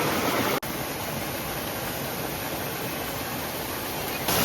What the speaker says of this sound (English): So you probably can't hear much because of the waterfall behind me